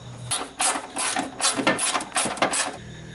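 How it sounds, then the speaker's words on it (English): A ratchet wrench clicks rapidly while the retaining bolts on a car A/C system's receiver-dryer are backed out, close and loud, in uneven bursts of metallic ticking with short pauses, no talk. "I got the 3 retaining bolts removed from the dryer"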